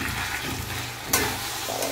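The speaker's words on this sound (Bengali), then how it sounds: "এক হাতে খুন্তি নাড়ছি" A spatula stirring spices and water in a hot pan, a steady close sizzle with a brief sharper scrape partway through.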